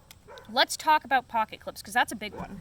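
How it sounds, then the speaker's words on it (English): A dog barks in the background of a home while someone talks steadily in the foreground, the barking mostly masked under his voice. "Sorry that my dog is barking."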